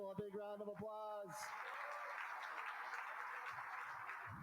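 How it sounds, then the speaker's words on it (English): An audience at a charity dinner for a service-dog group claps for the auction winners, a soft, even wash of applause that follows a brief stretch of speech at the start. "Let's give all 14 people a big round of applause."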